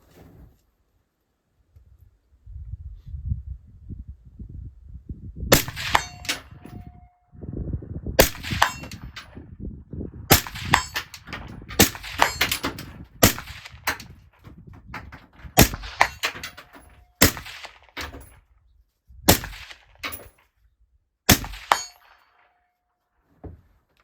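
Rifle shots at a 100-meter target ring out as sharp, loud cracks, each with a brief metallic ring. They come in irregular bursts over a low rumble and clatter of handling.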